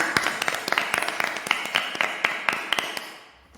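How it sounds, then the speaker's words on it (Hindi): Church congregation clapping loudly to welcome God at a special prayer gathering, a brisk run of strong, fairly rhythmic claps that fade out near the end, with no voices. "तो आइए हम अपने परमेश्वर के जोरदार तालियों से स्वागत करते हैं।"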